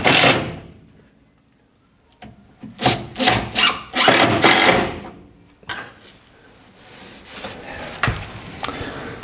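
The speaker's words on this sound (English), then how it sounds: "To keep the whole thing together, some screws through here." Screws are driven through a wooden board while fitting the carpeted interior of a Renault and Beetle hybrid car. Several short, rough grinding bursts come close together, mixed with creaks and rubbing of wood and separated by brief pauses.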